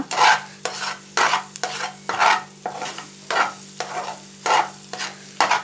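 Egg frying in a little oil in a pan while a spoon stirs it, giving repeated rhythmic scraping strokes about twice a second over a faint sizzle, close and clear with no voices.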